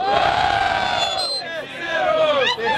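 A loud crowd at a freestyle rap battle in São Gonçalo, Brazil, cheers and shouts together, a roaring wall of voices with whoops rising near the end.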